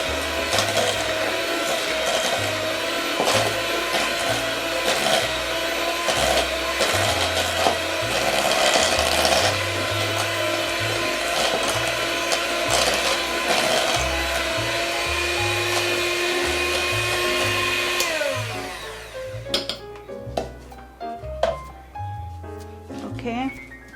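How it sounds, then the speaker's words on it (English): A small electric hand blender whirs through macaroon batter of butter and sugar for Asian cheese macaroons, a loud steady motor drone with pulsing tones that cuts off and gives way to clinks and scraping. "I'm just using a small hand blender to mix it together."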